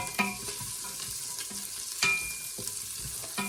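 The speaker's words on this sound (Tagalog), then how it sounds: "And then I start with garlic and onions." Garlic and onions sautéing in a pan for macaroni soup, giving a steady close sizzle with a few sharp stirring clinks and scrapes, with no voices.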